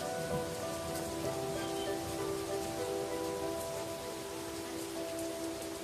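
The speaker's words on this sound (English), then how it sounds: "Summer rains come early to Hell Valley." Early summer rain pours down steadily over a valley in snow monkey country, a dense, even hiss that continues throughout, with soft musical tones sustained over it.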